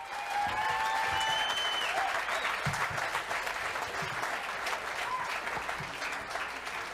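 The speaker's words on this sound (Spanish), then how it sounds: "recibe la atronadora ovación cuando se levanta para hablar" Loud, sustained applause from a large crowd, a steady roar of clapping filling the whole stretch, with occasional voices and whistles mixed in.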